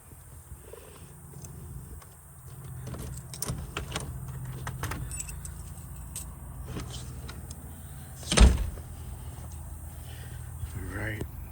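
Keys jangle and clink while house door locks are worked in a new house, small metallic rattles scattered through a steady outdoor background, with one louder clunk near the end.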